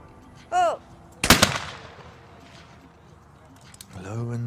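A single sharp, loud shotgun blast from a women's trap shooting final at an outdoor range, with a brief echoing tail and faint tonal background sounds before and after.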